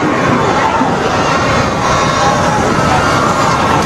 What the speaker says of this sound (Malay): semua sudah pun bersorak apabila melepasi kampung Boyan ini